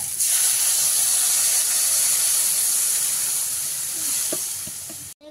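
Water hits a hot pan of sautéed potatoes, a steady loud hiss and sizzle that runs almost unbroken for several seconds before cutting off abruptly.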